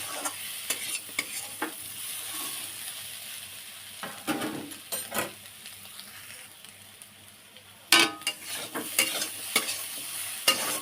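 Potato and spinach for aloo palak sauté in a pan, a quiet sizzle beneath bursts of scraping and stirring that come in clusters, with the busiest scraping near the end.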